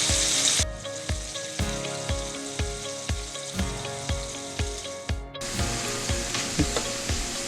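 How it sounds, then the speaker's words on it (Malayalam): Sliced bitter gourd (pavakka) frying in a pan with oil, a steady sizzle punctuated by regular rhythmic knocks of a spoon stirring, close and fairly loud, with a brief pause partway through. "ഞാനിപ്പോൾ നേരിട്ട് ഇത് വറക്കാൻ തുടങ്ങിയത്"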